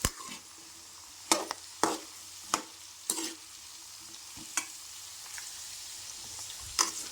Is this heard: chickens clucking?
no